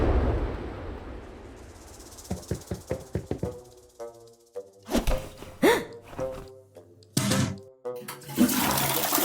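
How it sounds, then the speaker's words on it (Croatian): A toilet flushes with a rushing hiss of water at first, followed by a series of hollow knocks and thuds and gushing bursts. "Obično ja puštam vodu za tobom."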